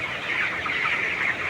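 A group of poultry chickens clucks and chatters in a close, continuous murmur of overlapping calls, with no voices heard.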